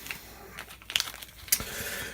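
Sporadic crinkling of thin plastic, a few sharp rustles and crackles close by, with no voices.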